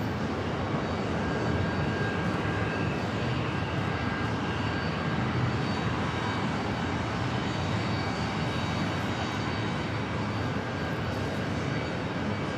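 A jet airliner taking off from JFK airport in New York bound for Boston gives a continuous, broad engine roar at steady loudness, heard from some distance outdoors for the full stretch without any voices.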